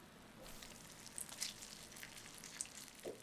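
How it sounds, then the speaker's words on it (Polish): Diced bacon pieces frying in a dry pan, a quiet, steady sizzle with scattered soft pops and crackles, close by and alone with no voices. "Pokrój boczek na drobne kawałki. Podsmaż na suchej patelni."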